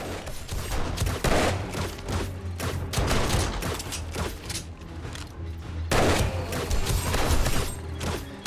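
Rapid bursts of gunfire from a dart gun crackle through 7 Days to Die, loud, close and irregular, with dense volleys separated by short pauses, plus occasional booms and mechanical clatter.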